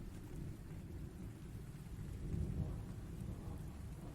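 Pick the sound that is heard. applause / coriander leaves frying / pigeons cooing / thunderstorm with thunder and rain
thunderstorm with thunder and rain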